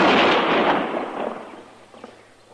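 A single loud gunshot in an old-time radio western drama cracks at the start, then decays into a fading rumble over about two seconds.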